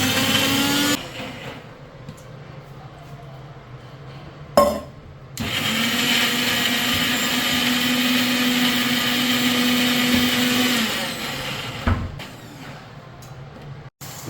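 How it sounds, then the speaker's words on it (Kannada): A kitchen mixer grinder grinding pre-fried whole spices into biryani masala, its loud whining motor running in long bursts with a short pause and a brief jolt between runs, no talking. "ಮುಂಚೆನೆ ಫ್ರೈ ಮಾಡಿರೋದನ್ನ ಇವಾಗ ರುಬ್ತಾ ಇದ್ದಾರೆ."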